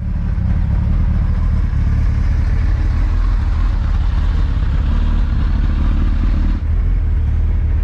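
A motorcycle rides out on new tyres being broken in, its engine a steady, loud low rumble with road and wind roar mixed in, continuous throughout with no speech.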